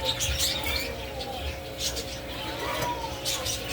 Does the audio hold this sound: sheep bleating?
no